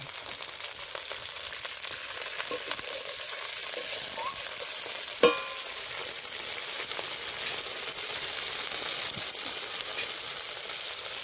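Water goes into a frying vegetarian potato curry in a pan, and a steady loud sizzle and crackle runs the whole way through, with one brief clink near the middle.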